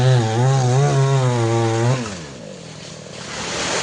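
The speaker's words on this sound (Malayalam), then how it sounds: "ഇനി രണ്ടാമത്തെ മരം കട്ട് ചെയ്യാണ്" Chainsaw cutting through a coconut palm trunk outdoors, the engine loud and close with a high revving whine that wavers and then drops into a rougher, lower idle partway through.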